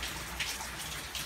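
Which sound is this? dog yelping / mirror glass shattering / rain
rain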